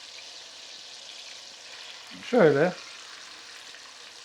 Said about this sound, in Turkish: Evet dostlar, yağımız kızmaya başladı. Ne yapıyoruz? Tavuklarımızı güzel kızartıyoruz.